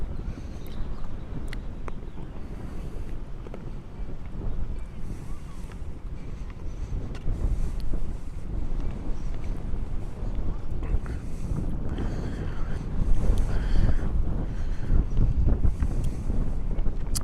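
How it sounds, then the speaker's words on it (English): Strong, unbroken wind on the coast at San Pedro, Los Angeles, buffeting the microphone with a loud, steady roar that rises slightly near the end. "Great place to fly a kite because the wind never ends here."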